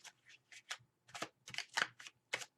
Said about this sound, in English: I'm just messing up the shuffle here completely